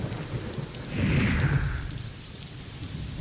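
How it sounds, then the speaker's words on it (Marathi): Heavy monsoon rain pours down in Mumbai during a thunderstorm, a steady dense hiss with a low thunder rumble swelling briefly near the middle, and no voices. "मुंबईमध्ये जोरदार पाऊस सुरू आहे"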